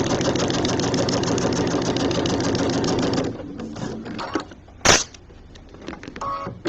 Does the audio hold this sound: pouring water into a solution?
no